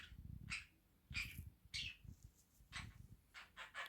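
A pet parrot in a home calls out in a series of sharp, bright squawks and chirps, several bursts spaced irregularly over a few seconds, fairly close and moderately loud with no talk.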